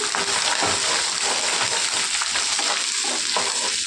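Green chillies fry with peanuts in a pan, a loud continuous crackling sizzle with stirring and rattling close up throughout.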